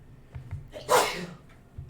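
A single sharp sneeze bursts out close by, amid quiet room noise and faint background murmurs.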